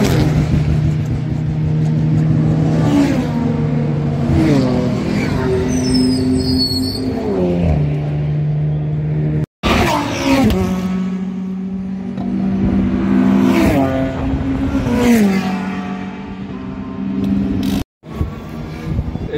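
Race cars, including Porsches, lapping the Spa-Francorchamps circuit, engines howling and shifting through gears as they pass one after another, loud and continuous with brief cut-offs, heard from a spot beside the track.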